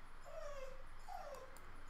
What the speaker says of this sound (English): I got a crying dog here.